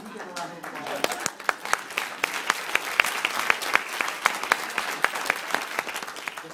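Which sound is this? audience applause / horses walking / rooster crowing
audience applause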